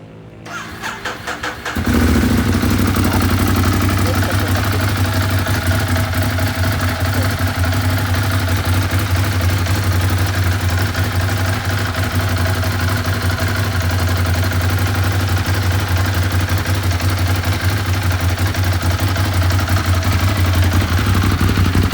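The engine of a 2016 model 821 for sale cranks and catches after about two seconds, then settles into a loud, steady, close idle that runs unchanged to the end.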